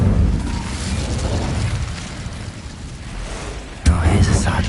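An Incendio fire spell cast in the video game Hogwarts Legacy, heard as a sustained roaring, crackling rumble that surges into a sudden loud burst near the end.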